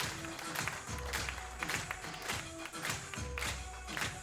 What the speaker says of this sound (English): Lively crowd here with the music.